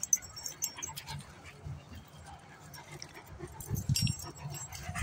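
Central Asian shepherd puppies on a farm make soft whimpers, yips and scuffling sounds up close while a person talks gently over them.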